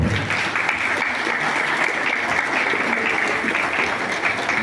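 A crowd at a bank inauguration in Tenancingo applauds a speaker with continuous, even clapping that stays loud and dense for the whole stretch.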